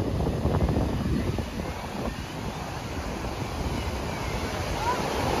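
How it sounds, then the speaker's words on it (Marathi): Sea waves rolling onto a beach in Goa at high tide, a broad, steady rush of surf mixed with wind buffeting the microphone, loud and continuous. "आता भरती आले समुद्राला"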